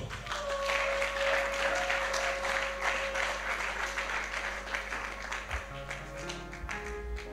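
Applause from a church congregation greeting a woman called up to give thanks, steady dense clapping throughout with a sustained tone and low hum underneath.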